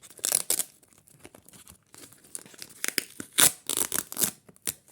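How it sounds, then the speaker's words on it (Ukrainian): A small paper packet is peeled unstuck: crinkly paper rustling and tearing in short irregular bursts, close and fairly quiet. "І зараз відклеїмо сам пакетик."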